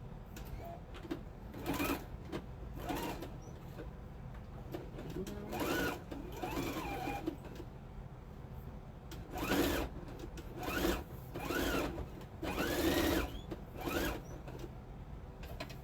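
A sewing machine runs a straight stitch on an apron in short bursts of rapid mechanical whirring, separated by brief pauses, with quiet room noise between.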